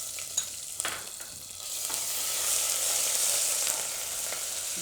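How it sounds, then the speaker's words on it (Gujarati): Turmeric hits hot oil already holding curry leaves, red chillies, cumin and asafoetida, setting off a sustained close sizzle that swells after a few early crackles; no one speaks. "હવે આપણે એમાં હળદર નાખીશું પહેલાં તેલમાં"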